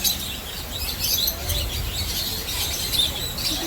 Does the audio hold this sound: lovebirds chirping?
yes